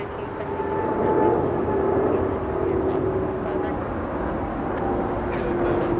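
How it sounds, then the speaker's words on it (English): A Qatar Cargo Boeing 777 departs Los Angeles International Airport, giving a steady, broad jet roar with a faint droning tone. It holds at an even level throughout and sounds fairly distant. "now we're going to see the departure of Qatar Cargo."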